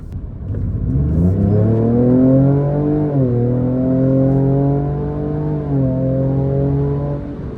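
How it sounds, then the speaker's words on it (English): A 2024 Ford Ranger Raptor pickup truck at full throttle revs hard and climbs in pitch, with a steady exhaust roar through two gear shifts. It is loud and close, and no one talks. "Now I'm gonna floor it as soon as I get the chance so that you can actually hear the exhaust"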